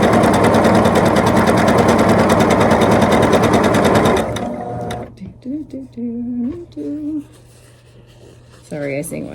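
Sewing machine stitching a quilt block runs in a fast, even, loud mechanical rattle for about four seconds and then stops, after which a person hums and sings nearby.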